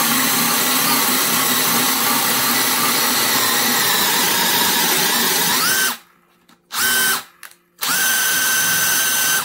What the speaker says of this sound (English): We'll try this at 1200 RPM, an old DCD 996.